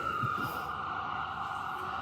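Ambulance siren holding a steady high wail at a moderate distance on a city street, with a brief low rumble at the start and no one talking.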